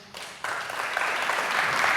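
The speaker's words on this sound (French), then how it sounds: "Applaudissez bien fort." An audience bursts into applause, starting quietly and swelling into steady, dense clapping that holds to the end.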